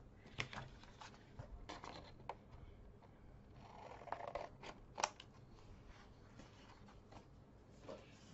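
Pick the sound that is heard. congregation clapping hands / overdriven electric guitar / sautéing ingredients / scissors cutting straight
scissors cutting straight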